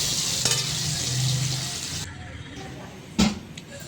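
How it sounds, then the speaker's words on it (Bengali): Potatoes fry in hot oil with a strong sizzle while being stirred, the hiss easing after a couple of seconds before a sharp utensil clank. "আলুগুলো এখন অল্প ফ্রাই করে নিব কালার আসা পর্যন্ত।"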